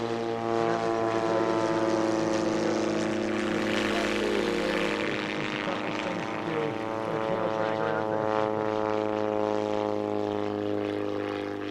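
World War I Nieuport single-seat propeller airplanes drone overhead at an air show, a loud, steady piston-engine roar with layered tones that swells slightly as they pass; no talk over it.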